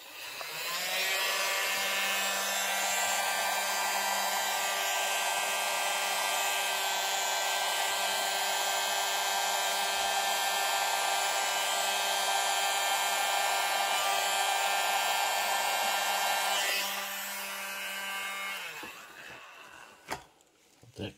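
A hair dryer blowing across acrylic pour paint gives a steady whirring whine with a clear motor hum, running loudly for about seventeen seconds before it winds down and stops, followed by a few light knocks.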